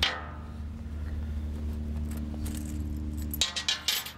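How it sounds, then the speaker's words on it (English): A small set of keys rattles softly for a few seconds, then a burst of sharper metallic clinks near the end as they are handled close by. "Minimum set of keys, that's the small set, not the large set"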